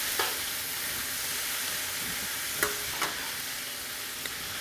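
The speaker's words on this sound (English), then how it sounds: "I'm going to just throw the mushroom and meat back into the pan." Mushroom and meat sizzle in a pan, a steady close frying hiss with a few sharp clinks of utensil stirring, no voices.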